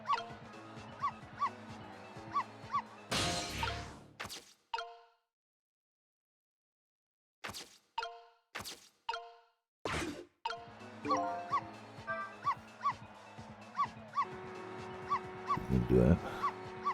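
A dog in the video game Ghost Trick gives short barks and yips in brief bursts between stretches of game music, with sharp clangs and a pause of near silence midway.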